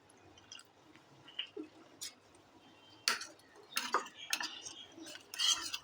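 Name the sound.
cornflour being stirred with water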